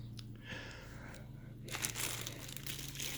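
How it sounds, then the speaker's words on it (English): Packaging on a Shark Navigator Freestyle cordless vacuum crinkles as it is unwrapped, soft at first and then louder rustling plastic close by, with a low steady hum underneath. "we're just going to go ahead and unwrap everything, starting with the charging dock"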